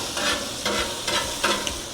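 Leftover burger patties being flipped on a hot Blackstone griddle, reheating with a steady close sizzle broken by a few soft scraping, stirring bursts from the spatula.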